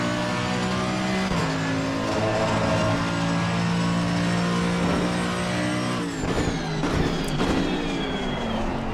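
Mercedes-AMG GT3 Evo race car engine in Assetto Corsa Competizione at Indianapolis, a loud sustained engine drone with steady harmonics, shifting pitch as it revs and changes gear, echoing off walls.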